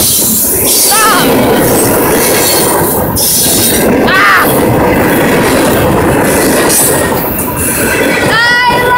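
A train passes very close and loud, with rumbling wheels, rhythmic clatter and several high metallic wheel squeals rising over the continuous roar.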